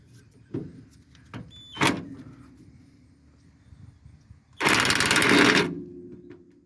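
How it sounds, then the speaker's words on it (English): An impact wrench works a front shock bolt on a 1969 Cadillac Fleetwood. Short taps come first, then one loud sustained burst of rattling hammering near the end, close and with no voices. "Let's see if we can get the impact to even tighten any at all."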